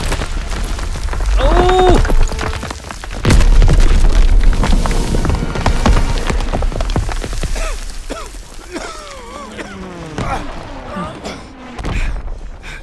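A Call of Duty bomb explosion booms loudly and heavily, then falls away into rumbling debris and battle noise, with voices talking during and after the blast.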